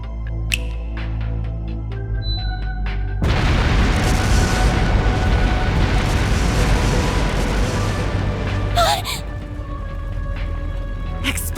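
After a quiet opening, explosive artifacts go off across a palace in Trails through Daybreak, bursting into a sustained loud rumbling roar lasting several seconds, then easing off with a sharp crackle near the end.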